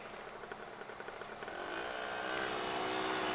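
A red Yamaha 125Z motorcycle with a standard tune-up runs close by, its engine pulsing in a quick idle rhythm before the revs climb into a steady, rising drone.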